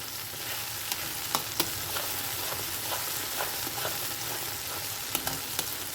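Pointed gourd pieces fry in mustard oil with a soft continuous sizzle, while a spatula stirs and taps the pan now and then in short clicks, fairly quiet and close.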